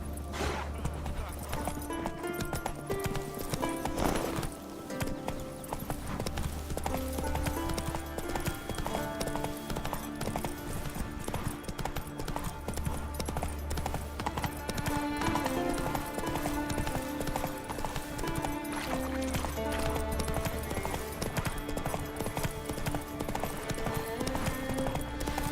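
Hooves of the horse Roach clip-clopping in The Witcher 3 in a steady galloping rhythm, heard at moderate level beneath a continuous music score.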